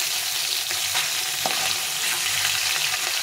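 Hilsa fish steadily frying in hot oil in a pan, a continuous close sizzle with brief scraping as the pieces are stirred and turned, no voices.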